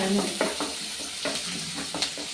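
Garlic and ginger frying in a pan for a fish curry, a soft steady sizzle with occasional stirring scrapes and light clinks of a utensil, close and unaccompanied by talk.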